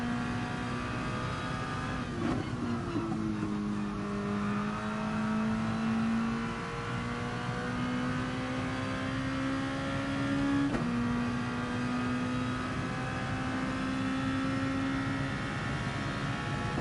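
Race car lapping the Monza circuit in a racing video game, its engine droning steadily with pitch rising through the gears, dropping at two shifts and climbing again, continuous and close.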